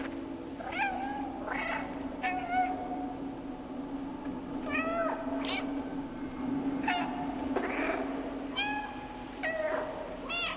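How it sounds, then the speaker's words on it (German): Cat meowing in the video game Stray: a series of short, high, close meows repeating at irregular intervals over a low ambient hum. "Was ist, wenn ich miaue?"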